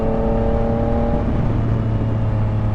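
A Honda Rebel 500 motorcycle being ridden, a loud continuous engine drone with steady tones that shift lower partway through as the revs change, mixed with wind rush.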